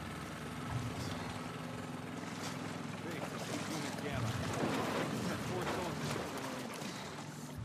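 A boat engine drones steadily in The Last of Us Part 2, a broad rumbling wash mixed with wind and water noise, running continuously throughout.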